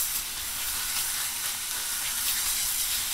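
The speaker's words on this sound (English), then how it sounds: "So we throw it down on the Blackstone. You can hear that sizzle." Steak sizzles on a Blackstone 22-inch griddle, giving a steady, bright frying hiss that carries on unbroken and close throughout.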